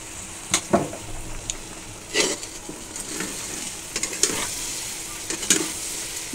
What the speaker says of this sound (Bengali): আর এখন আমি এখানে সরিষার তেল দিচ্ছি